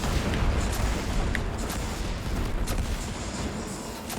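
Scorch cannon fire during a Destiny 2 Crucible match, heard as a constant dense roar of booming blasts and explosions with scattered sharp reports, loud and continuous throughout with no clear gaps.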